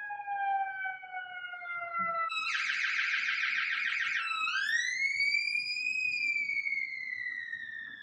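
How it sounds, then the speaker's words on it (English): Emergency sirens pass outside, one wailing tone sliding downward, then a rapid pulsing yelp, then a rising wail that holds steady, loud and continuous throughout. "Pause for sirens."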